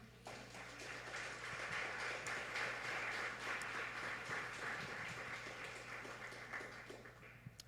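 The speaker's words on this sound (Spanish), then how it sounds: "Voy a darle una ofrenda de palmas al Señor." A church congregation applauding, a broad, steady wash of clapping hands that holds evenly for several seconds before tapering off, fairly distant and moderate in level.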